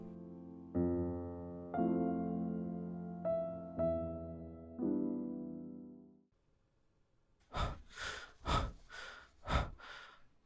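A middle-aged woman rushing into a police station pants heavily, with four or five loud, close gasping breaths in an uneven rhythm after a few soft piano notes fade out.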